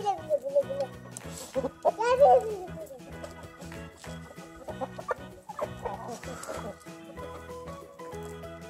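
Chickens cluck in a village yard while being fed, with busy overlapping clucks up close and voices of adults and someone talking over them.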